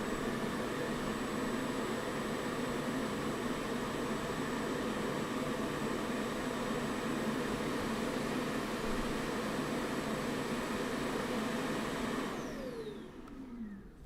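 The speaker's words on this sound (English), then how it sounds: "robot vacuum in the background" A robot vacuum runs steadily in the background with a constant broadband whir and a thin high whine, then winds down and fades out near the end.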